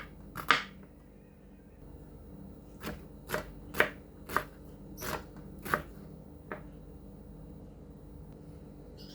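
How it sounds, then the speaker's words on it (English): A knife slices an onion into small cubes on a cutting board, a run of about eight crisp, separate chops at an uneven pace, close and clear over a quiet room. "Let's slice our onion. Slice it into small cubes."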